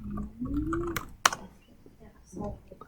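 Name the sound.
typing a search on a computer keyboard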